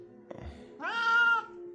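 A stray cat kept in an apartment gives one drawn-out, strident meow up close, preceded by a soft thump and low murmur, with faint steady background hum throughout.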